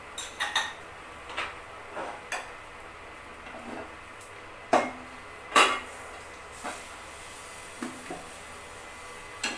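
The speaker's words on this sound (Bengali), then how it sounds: "আমি একটা প্রেসার কুকার বসিয়ে দিলাম গ্যাসে।" A pressure cooker is set down on a gas stove, heard as a series of sharp metallic clanks and knocks at uneven intervals, a few louder thumps standing out against a quiet background, with no one talking.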